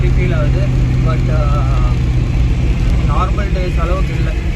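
Steady engine drone and road rumble from a moving vehicle on Anna Salai, with scattered traffic tones and short chirps over the continuous noise.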